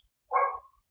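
A dog gives a single short bark, moderately loud and a little distant, set against near silence.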